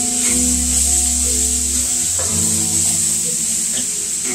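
Food sizzles steadily in a pot as it is stirred for a savory or sweet dish, a constant close hiss running throughout with a low tonal hum underneath.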